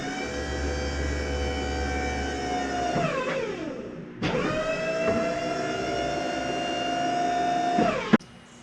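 Hydraulic pump and valves on a 1998 WoodMizer LT40 Super Hydraulic sawmill whine and drone steadily, pitch sagging and recovering as functions engage, then cutting off abruptly with a clunk near the end.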